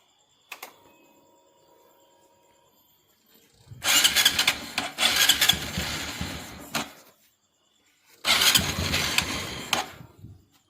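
A motorcycle fitted with a 125 LED camshaft, its engine started up in two bursts: a loud, close roar of a few seconds, a pause of near silence, then a second start that runs briefly again.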